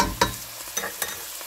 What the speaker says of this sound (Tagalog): igigisa natin siya hanggang sa maging golden brown ang ating bawang at sibuyas